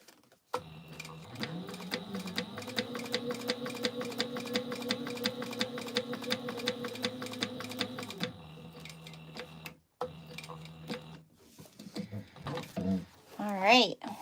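A sewing machine stitches a Sallie Tomato Phlox wristlet with TPU, a rapid steady run of needle ticks for several seconds that stops abruptly, followed by a short burst and then a voice speaking.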